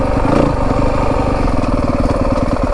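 A 2025 Yamaha WR 250F dirt bike engine running close by in first gear, with a burst of throttle near the start and then a steady, choppy low-gear chug as the throttle snaps on and off.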